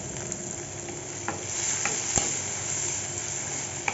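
Onions sautéing with salt, curry leaves and lentils in hot oil in a pan, giving a close, steady sizzle with occasional sharp scrapes from stirring.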